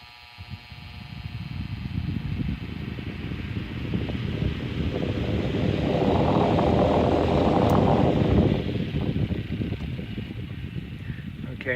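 An antique electric fan starts up and runs, its motor whir building into a steady broadband rush of moving air that swells in the middle, then eases, with faint talk underneath.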